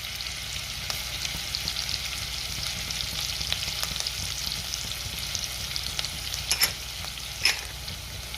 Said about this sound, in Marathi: तेल आणि बटर गरम झाले, त्यामध्ये मी जिरे घालते.